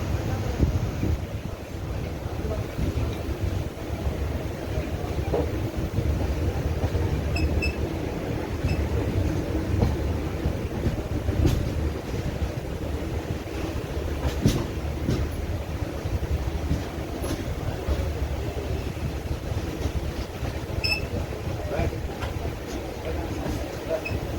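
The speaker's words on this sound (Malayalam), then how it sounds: "കന്യാകുമാരി ലക്ഷ്യമാക്കിയ ട്രെയിൻ പായുകയാണ്" A train heading toward Kanyakumari in Tamil Nadu rumbles steadily, a continuous low roar with wind buffeting throughout and no clear pauses.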